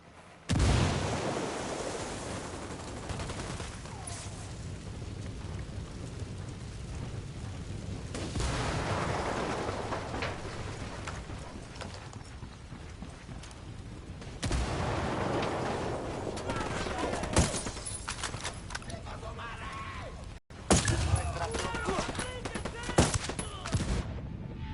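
Rapid gunfire from a combat video game, sustained bursts and volleys running throughout with intermittent loud blasts, mixed with voices talking over the action.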